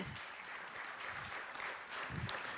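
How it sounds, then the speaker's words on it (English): Audience applause at an HR executive round-table event, a faint, distant patter of clapping that continues evenly without a clear peak. "So a big round of applause for our sponsors, volunteers and cheerful audience as well."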